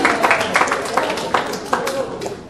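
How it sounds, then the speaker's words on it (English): An audience at a book launch applauds, a short burst of scattered clapping with a crowd murmur and voices mixed in. "Give a round of applause for him"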